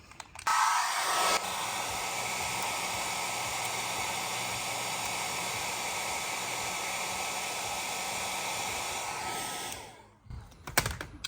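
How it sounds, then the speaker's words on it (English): A hair dryer blows with a loud, steady whooshing hiss close by for several seconds, heating a capacitor, then switches off, followed by a few handling knocks. "So I'm going to go ahead and heat this up with a hairdryer"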